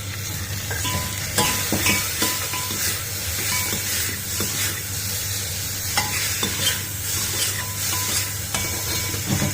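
Chopped tomatoes fry in a pan with ginger, garlic and garam masala for a Sindhi dish, a steady close sizzle and hiss broken by stirring scrapes and clinks, with a low hum underneath.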